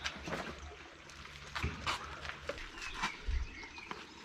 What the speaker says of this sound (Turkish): Kuş sesleri oh çok güzel.